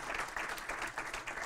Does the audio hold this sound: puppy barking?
no